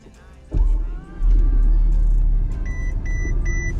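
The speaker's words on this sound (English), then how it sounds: "You can listen to how fast this starter motor cranks the engine." A fast starter motor briefly cranks a Lotus-based hypercar build's engine, which catches and settles into a loud steady idle rumble, followed by a few electronic chimes from inside the vehicle.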